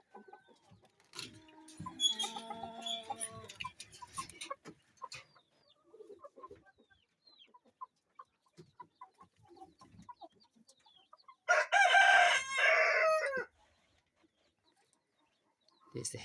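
Kienyeji chickens on a Kenyan farm cluck in scattered bursts nearby, and a rooster gives one loud, clear crow partway through amid quieter background clucks.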